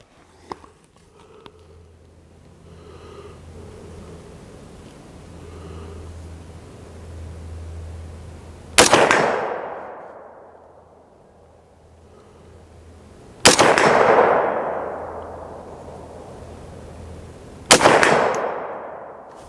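Three loud, sharp rifle shots from an AR-15 fitted with a 350 Legend upper ring out alone at an outdoor range, each with a long decaying echo. The shots are evenly spaced after a stretch of low ambient rumble.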